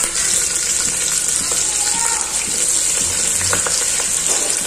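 Cut onion pieces hit hot oil already seasoned with mustard seeds, cumin and fenugreek, producing a steady, close crackling sizzle with occasional pops.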